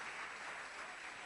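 A church congregation claps together in a steady, dense burst of applause, moderately distant and quite soft, with no voices over it.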